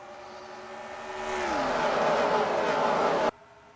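A race car engine on track rises from a steady drone into a loud, climbing throttle roar as it accelerates, held for a couple of seconds before cutting off abruptly, leaving a quieter background hum.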